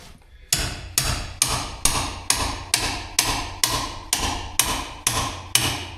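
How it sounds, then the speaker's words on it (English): A hammer strikes a chisel to drive wedge locks off axle keyways, giving a dozen loud, evenly spaced metallic blows close up, each ringing briefly before the next, with no talking. "All right, just keep working the wedges here."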